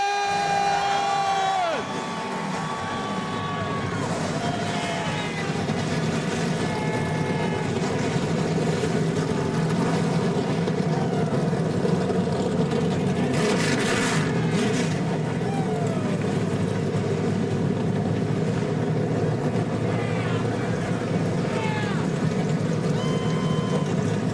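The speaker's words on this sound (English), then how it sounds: "And the engines have fired, and that means the fans are fired up for 150 laps" NASCAR Camping World Truck Series trucks fire their engines at the Eldora Speedway dirt track before the 150-lap Mudsummer Classic, a loud, dense, sustained engine roar blended with crowd noise throughout, with brief announcer talk early on.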